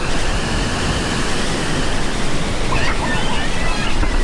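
Mountain river and waterfall at Ravana Falls, a loud, dense, continuous rush of falling water filling the whole soundscape with no pauses.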